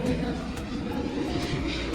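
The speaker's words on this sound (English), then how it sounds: "And look at the big plane. That's Emirates." An Emirates airliner passes overhead near an airport, a loud, steady broadband engine roar that fills the scene without a break.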